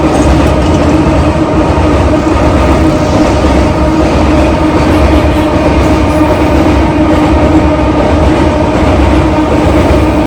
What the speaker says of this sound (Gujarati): તમને પણ આવો ટ્રેનનો અવાજ સાંભળો ગમતો હોય તો કમેન્ટમાં યસ લખી દેજો